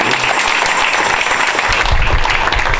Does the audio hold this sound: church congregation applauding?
yes